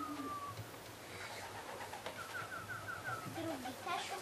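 Racing pigeons fly in and land at a loft during a pigeon-race arrival, with soft wing flutters and brief coos heard at a distance while people talk nearby outdoors.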